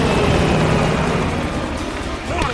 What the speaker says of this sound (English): The chopper got away!